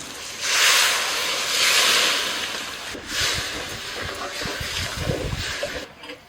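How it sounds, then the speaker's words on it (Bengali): Spiced gravy of sour curd, a little sugar and water comes to a boil in a pan for potol dolma, giving a broad steady hiss that swells and fades, with soft, close bubbling pops growing busier toward the end. "গ্রেভি ফুটতে শুরু করেছে"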